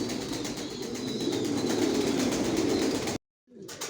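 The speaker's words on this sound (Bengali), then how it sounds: "ভিউয়ার্স দেখতে পাচ্ছেন এখানে সব অ্যাডাল্ট কবুতর" Adult racer pigeons in a loft, never yet bred, make low murmuring coos with soft wing flutters over a steady noisy background that cuts out briefly near the end before resuming.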